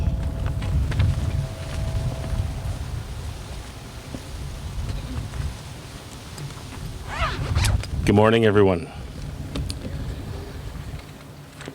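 Wind gusts across the microphone at an outdoor Remembrance ceremony in Wellington County, making a steady low rumble and buffeting throughout while someone speaks over it.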